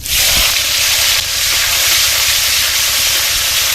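Chopped tomatoes dropped into hot oil with whole spices, a dried chilli and leaves, erupting into a loud, continuous close-up hiss and sizzle that barely lets up, with no voices.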